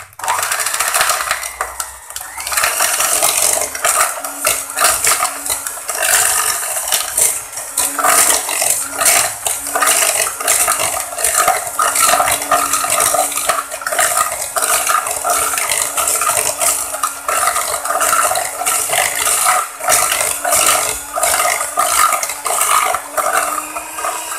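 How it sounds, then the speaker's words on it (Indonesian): An electric mixer beats butter cake batter with dates at high speed, making a steady, loud whirring drone with constant rattling and clattering of the beaters against the bowl. It is close, runs the whole time and has no talk. "Sekarang kita mixer dengan kecepatan tinggi"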